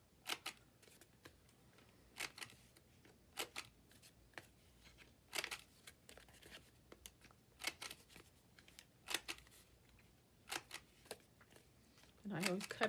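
Paper card corners being trimmed with a corner cutter at a craft table, a string of faint, sharp clicks and snips spaced a second or so apart, close and quiet, with soft rustling between them.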